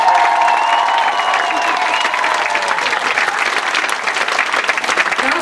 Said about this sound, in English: Just give them one more massive round of applause.